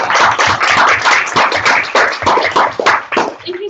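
An audience at a university public talk applauds steadily for the whole stretch, a dense, fairly loud patter of many hands clapping with no voices over it.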